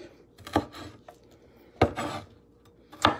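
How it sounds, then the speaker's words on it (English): Knife chopping bell peppers on a cutting board while cooking, three separate sharp knocks spaced about a second apart with faint scraping between, quiet and close. "So I'm just cutting up my bell peppers here to go in the pan."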